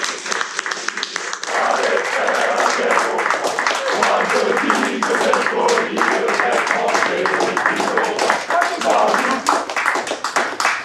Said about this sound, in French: La promotion de Samuel et de ses camarades reçoit applaudissements et compliments des aînés.